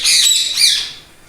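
A ringneck or alexandrine parrot lets out a loud, shrill, close squawk that rises and falls over about a second and then fades.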